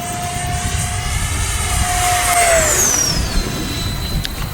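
A Viper 70 RC model jet streaks past at full throttle, its loud turbine whine sliding sharply downward in pitch as it passes close by over a steady roaring rush.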